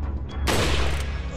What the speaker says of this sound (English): Man, this upgraded rifle is awesome. Guarantees one shot.